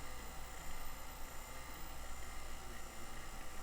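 A vacuum pump draws air out of a shock absorber on a Jeep: a constant, loud, dense whirring drone that holds steady without breaks.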